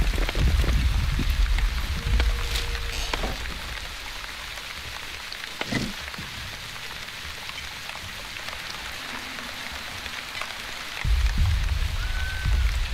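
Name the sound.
rain weather in The Wandering Village video game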